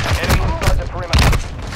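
Gunfire in the shooter game Call of Duty: Modern Warfare II, several heavy booming shots in quick irregular bursts, loud and close, with a voice mixed in.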